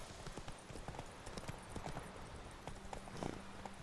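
Quiet galloping horse hooves in The Witcher 3, a continuous quick clip-clop rhythm under a low ambient game wash, with no talking.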